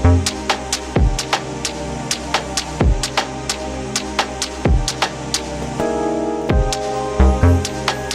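Hip hop beat programmed on an Akai MPC Studio 2: punchy kicks and crisp hi-hats repeat in a steady looping groove over sustained melodic layers, loud and upfront with no talking.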